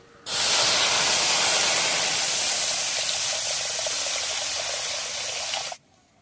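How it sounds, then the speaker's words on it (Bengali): A loud, steady hiss as water pours into a hot wok, lasting several seconds before stopping abruptly. "কড়াইতে জল দিয়ে দিলাম"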